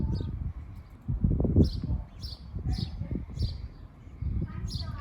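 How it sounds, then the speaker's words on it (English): Sparrows chirp in short bright bursts roughly every half second, repeated several times, set back in the distance over a steady low outdoor rumble on school grounds beside a pollinator-friendly lawn strip. "Some sparrows chirping in the background."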